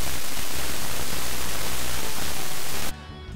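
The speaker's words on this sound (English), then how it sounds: "Now, vinyl dither is a little closer to high resolution. Some people might actually like it. It sounds like surface noise." Vinyl-style dither noise resembling record surface noise: a dense, steady broadband hiss with faint crackly texture, loud and alone, cutting to a much quieter level just before the end.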